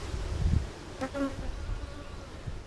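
Honey bees buzz steadily in a beehive that was recently combined, a close, continuous hum with a brief louder swell partway through.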